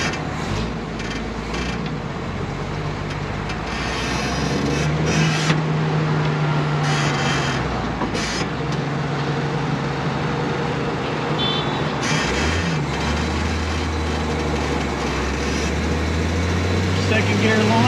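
A Jeep 4.2 engine fitted with a Weber carburetor drones steadily while driving, its low pitch rising and falling through gear changes under continuous rattling mechanical noise, close and fairly loud.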